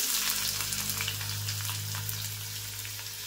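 Onion frying in hot oil for a Malvani chicken masala, a dense, constant close-up sizzle with fine crackling spatter and no talk.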